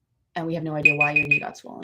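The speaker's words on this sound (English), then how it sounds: "That's just the alarm to check on the snacks" An oven timer alarm for snacks beeps in a few short, repeated bursts underneath continuous close conversation, with one more beep sounding near the end.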